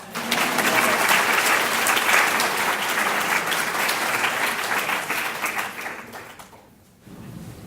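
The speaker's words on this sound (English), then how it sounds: "Now you can clap." A large audience claps and applauds loudly and steadily, then the applause fades toward the end before a brief renewed burst.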